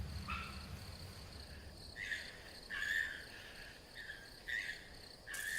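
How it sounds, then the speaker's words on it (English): Cicadas droning in a wild setting near a palace feeding ground, a steady high buzz with several louder pulsing bursts recurring every second or so, fairly near and without voices. "Some of the cicadas have reached their destination."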